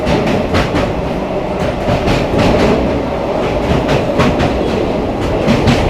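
The Vibhuti Express rolls across a river bridge in a dense, loud roar of wheels and carriages, with rhythmic clickety-clack beats running throughout, heard from inside the train.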